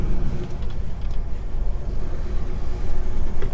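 A car passes on a narrow country lane, its low rumble and tyre noise loud and close for a few seconds, with wind-like roar over it and no talking.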